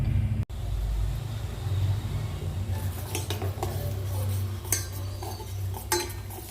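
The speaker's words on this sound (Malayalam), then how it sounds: "നമ്മുടെ കരിഞ്ചീരകത്തിൻ്റെ പൊടി അതിലേക്കിട്ട് പതുക്കെ കിളറി കൊടുക്കുക" A spoon stirs black seed powder slowly through warm olive oil in a pan on low heat, making soft scraping strokes and occasional light metallic clinks against a faint background hum.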